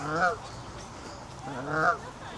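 Two honking calls from ducks and swans at a park lake, one near the start and one later, over a steady outdoor background, with a hint of distant talk.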